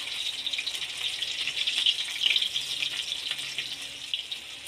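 Paneer pieces frying in hot refined oil, a steady close crackling sizzle with small swells in intensity and no talking.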